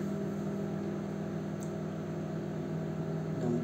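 A microwave oven running at night in a quiet home, giving a steady low hum and whir that holds evenly throughout, with one faint tick near the middle.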